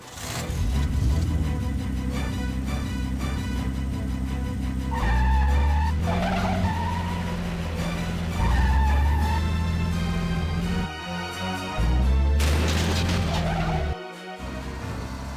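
Car tires skid and squeal in the Blue Stinger video game, a continuous loud screech over a steady engine drone with game music layered beneath for the full stretch.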